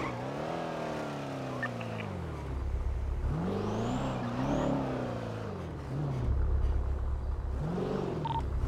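A stolen police car in a video game revs its engine, the pitch climbing and falling in several sweeping surges, loud and continuous with a steady road rumble underneath.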